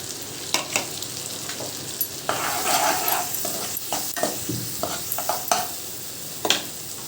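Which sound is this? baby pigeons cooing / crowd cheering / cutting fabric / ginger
ginger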